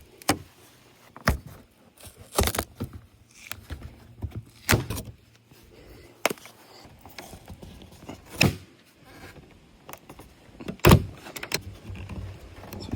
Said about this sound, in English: So I'm just going to go ahead and rip these off.